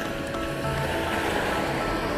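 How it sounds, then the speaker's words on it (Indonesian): Ocean waves break on a coral reef in a hidden bay, producing a loud, continuous wash of surf that swells slightly midway, with no voices. "Jadi arus ombak dari sana tuh gede banget itu."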